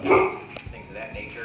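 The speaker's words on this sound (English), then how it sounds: "That's my dog. Say hi to my dog." A pet dog gives a short bark and yip near the start while someone talks, the dog's voice brief and partly mixed under his speech.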